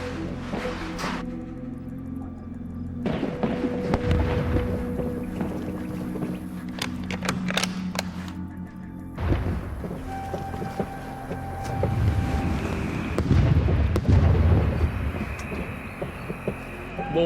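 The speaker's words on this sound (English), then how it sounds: "Mortar's coming rather close." Mortar shells burst close by on a WWII Stalingrad battlefield in a video game: heavy broadband blasts and low rumbling booms land every few seconds over a constant droning background, with the strongest impacts near the end.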